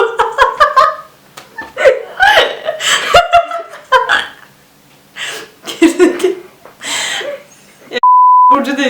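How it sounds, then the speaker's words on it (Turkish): Someone chatters and laughs in Turkish, then a loud, steady electronic censor beep cuts in abruptly at the end. "Neyse biplerim."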